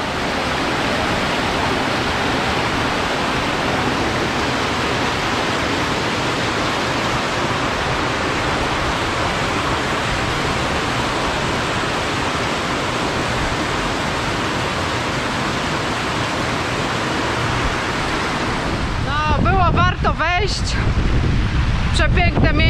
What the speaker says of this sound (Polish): Przepiękne miejsce, jaskinia z wodą, z wodospadem